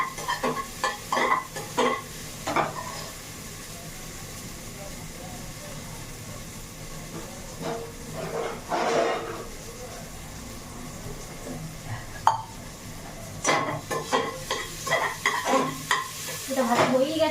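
Ingredients fry in a pan and are stirred with a spatula, scraping strokes in short bursts over a soft low sizzle, with someone speaking at times.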